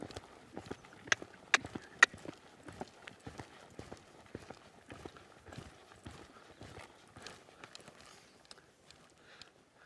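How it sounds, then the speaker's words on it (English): Hooves of a horse loping on the ground in a rhythmic three-beat pattern, fairly close and clear, with sharp hoof strikes over quiet surroundings. "I'm going to lope off to the left with those shoulders up"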